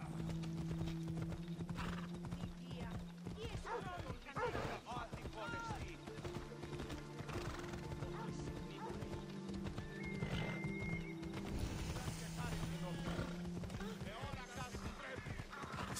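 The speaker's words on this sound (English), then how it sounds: "Galloping horse." A horse gallops in Assassin's Creed Odyssey with rapid, rhythmic clip-clop hoofbeats and a whinny, over game music, while someone talks.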